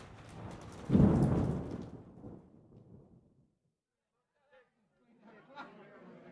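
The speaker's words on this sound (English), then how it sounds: "Tonight, there is a terrible storm," A heavy clap of thunder rolls and rumbles for a few seconds, then fades into near silence with faint scattered patters and rustles.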